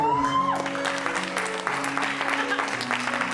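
Audience applause at a French-language church gathering, a steady dense wash of clapping from a crowd, sustained for several seconds after a tone fades at the start.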